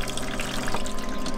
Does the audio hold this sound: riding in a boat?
no